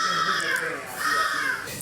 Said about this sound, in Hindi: ये मिक्स ब्रीड का हुआ है, मिक्स ब्रीड कौवे।